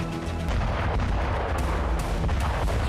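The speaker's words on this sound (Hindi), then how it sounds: "ये वीडियो ज़ेलेंस्की सेना के विस्फोट का है।" Bombardment by the Ukrainian army in Tonenke, Donetsk, rumbling with continuous booming artillery fire and explosions across the whole stretch, loud and heavy with sharp bursts at intervals.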